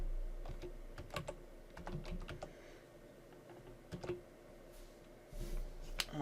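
Typing on a computer keyboard in short irregular bursts of soft, close key taps with brief pauses between, quiet and without voices.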